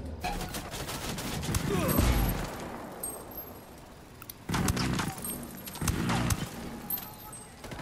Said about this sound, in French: Moi, je tire au travers des murs.